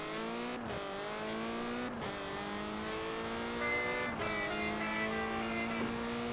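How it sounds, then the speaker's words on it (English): A car engine in a racing video game revs up and shifts through gears repeatedly, each rising whine dropping at a shift, with a steady moderate drone and no voices. "He looks so cool driving this car."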